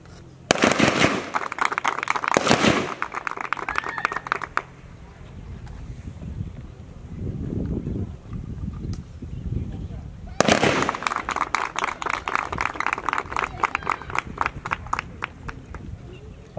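Bursts of AK47 rifle fire at a police training shooting range, rapid sharp shots in two volleys separated by a quieter stretch, with shooters firing while standing and moving.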